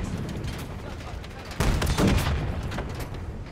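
Heavy gunfire and booming blasts in Call of Duty Black Ops 6 around a T-72 tank, a dense continuous rumble that swells loudly about halfway through, with no clear speech.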